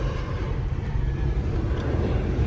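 United Airlines A320 airliner flying overhead, a broad steady roar of jet engines filling the scene, loud and continuous with no pauses.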